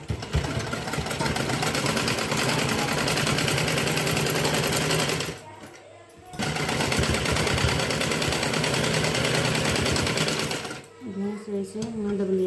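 A sewing machine stitching the edge of a blouse runs in a loud, continuous rapid whir, pausing briefly midway, with a voice speaking at the end.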